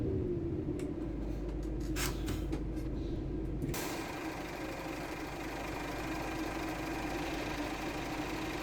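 A Scania P series truck with a 380-horsepower DC-12 engine idles steadily in a truck-driving game, a low continuous rumble with a few faint clicks early on, then a smoother, broader drone, heard alone without talk.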